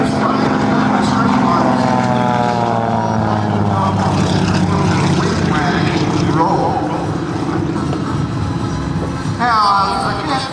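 Propeller airplane making a low-altitude pass at an air show, a steady loud engine drone with shifting pitch throughout, under an announcer's continuous commentary.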